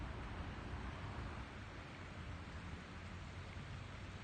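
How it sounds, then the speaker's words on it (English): Continuous broadband rush of water pouring into a sewage drain on the North Shore near the Swampscott–Lynn border, a steady loud wash with no pauses and no voices. "You see the water pouring in?"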